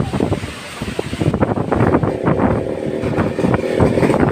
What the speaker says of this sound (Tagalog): kung ano kalakas ang hangin